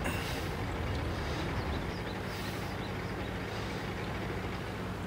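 Steady, rough engine drone with a broad, noisy hiss, like a damaged boat motor running continuously at moderate volume, no voices.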